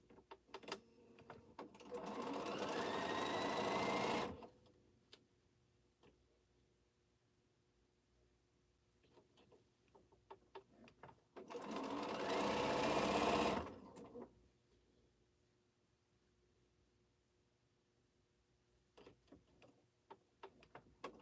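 A sewing machine stitches quilt pieces in two steady bursts of several seconds each, its fast mechanical whirr and ticking separated by quieter stretches with small handling clicks.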